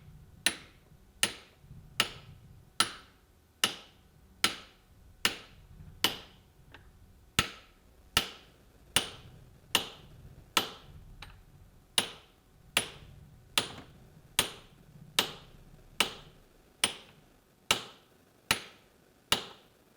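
Hammer blows on hot steel while a blacksmith drives a fuller into a cleft for a cleft weld, about one sharp ringing strike per second in a steady, even rhythm, close and loud with no talk.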